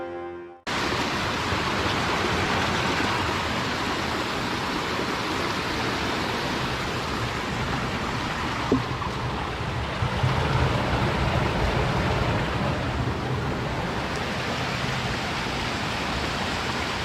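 Horton Creek in Arizona pouring out of a cave, a loud, steady broadband rush of flowing water, close and continuous with no voices.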